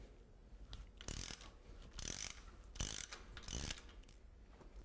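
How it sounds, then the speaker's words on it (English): A ratchet with a deep well socket loosens thermostat housing bolts on an engine, producing four separate bursts of fast clicking, each about a third of a second long, close and crisp against a quiet background. "We'll use a deep well socket."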